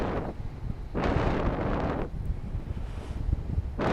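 Wind buffets the microphone while paragliding over Champeaux in a strong southerly breeze, coming in loud gusty bursts roughly every second with no voices.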